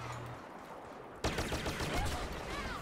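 Sustained blaster gunfire in the Star Wars Battlefront video game, dense and continuous, gets suddenly louder partway through as the player comes under fire.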